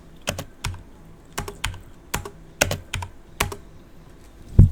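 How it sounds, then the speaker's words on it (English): Separate key presses on a computer keyboard, a steady sequence of crisp clicks spaced about half a second apart, heard close up and alone, ending with a heavier thump. "It wants me to type dir."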